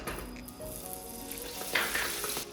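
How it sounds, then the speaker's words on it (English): Butter melting and sizzling in a pan while making flaxseed ladoo, a steady close frying crackle with faint clinks of a spoon or utensil against the pan. "As the butter is melting, we will add flour and start to roast it."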